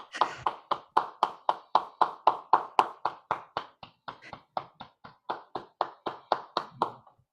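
Steady rhythmic hand clapping over a video call, close and fairly loud, around three claps a second with no pauses, like one person applauding into a microphone.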